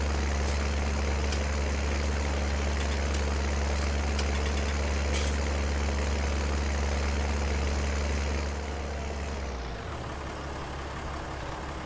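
A small tractor engine idles steadily in a farming game, a loud, even low-pitched drone that drops and changes tone near the end as it winds down to a quieter hum.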